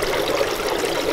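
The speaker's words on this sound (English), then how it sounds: "At least we got some water flowing, at least somewhat." Water trickles steadily through a channel in a beaver dam, a continuous, close, broadband rushing and gurgling with no pauses or voices.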